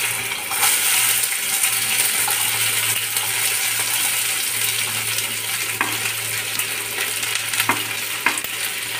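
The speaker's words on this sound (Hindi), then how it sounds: "इसमें भिंडी को डालेंगे।" Okra tipped into a pan of hot oil with browned cumin and chopped green chillies, a loud steady sizzle throughout, punctuated by a few sharp spatula clinks and scrapes.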